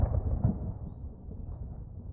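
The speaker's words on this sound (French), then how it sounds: "Il y a une tempête qui se prépare." Low rumbling thunder from a storm gathering in a French cartoon, a steady dark roll that swells slightly near the start and then holds on without any voices.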